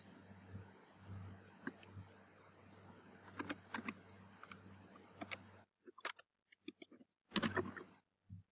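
Keys clatter on a computer keyboard as an email address is entered to sign up for a program, quiet clusters of clicks in short bursts with a brief pause before a final flurry.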